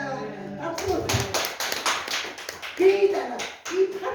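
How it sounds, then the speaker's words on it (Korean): A church congregation bursts into quick, lively clapping during a testimony, with a short cluster of claps near the start, then a voice speaking while scattered claps continue. "박수"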